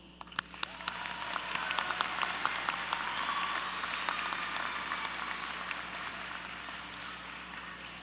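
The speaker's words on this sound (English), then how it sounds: "please join me in applauding the efforts of the teachers who have supported our students in their journey to" A graduation ceremony audience applauds the teachers, a dense, steady wash of many hands clapping that swells early and holds loud for several seconds, with a few sharper individual claps standing out.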